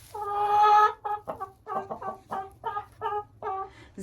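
Chickens and a rooster cluck near and loud, starting with a long sustained call and then a string of short, rhythmic clucks in quick succession, with no talk over them.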